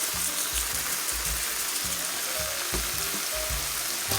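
Garlic noodle sauce with red pepper flakes sizzles steadily in a hot pan while a utensil stirs it, giving a run of soft, regular scraping pulses over the constant frying hiss.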